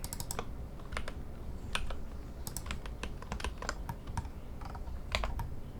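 Computer keyboard used for shortcut keys while modelling in Blender, giving sparse, irregular single key clicks and short clusters over a low steady background hum, close and clear.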